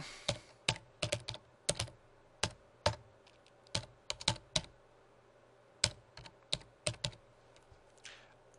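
Someone types a username and password on a computer keyboard, producing sparse, crisp key clicks in short irregular bursts with pauses between them, close and alone in a quiet room.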